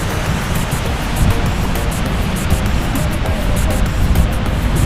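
Steady roar of sea waves washing onto a beach, continuous and fairly loud, with a constant rushing wash and no voices.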